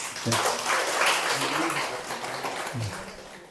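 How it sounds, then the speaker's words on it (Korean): Church congregation clapping in welcome during a service, a broad burst of applause that starts loud and slowly fades, with brief voices mixed in. "자, 우리 박수 한번 보내드리겠습니다."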